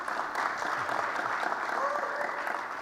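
An audience at a tech conference session claps steadily after a live software demo. The applause is moderately loud and even, lasting about three seconds with no talking over it.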